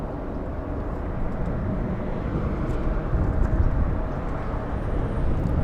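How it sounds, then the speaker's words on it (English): A Canadian Boeing 737 MAX jet at LAX airport, a loud sustained engine roar that holds steady and swells slightly, heard alone without voices. "Canadian 737 MAX."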